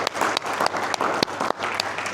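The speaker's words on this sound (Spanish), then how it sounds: "Dame un aplauso al Señor" A church congregation claps steadily in praise, many hands producing a dense, close patter with a few sharper individual claps standing out, brief and continuous with no talking.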